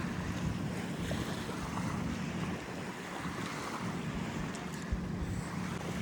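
A Yamaha jet ski rides over the sea in the Maldives, its engine drone buried in steady wind rush and splashing water across the whole stretch.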